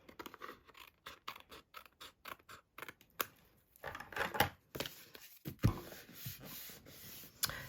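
Paper trimmer or scissors cutting a card layer for a handmade greeting card, giving close, quiet scraping and clicking cuts in quick bursts, then a longer rasping slide and a few louder snips, with no talking.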